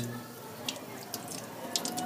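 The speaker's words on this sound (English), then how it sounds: "the water flows straight through and out to the heart" Water is poured through the valves of a heart that has been cut open, flowing steadily in a quiet, continuous trickle with a few faint splashy drips.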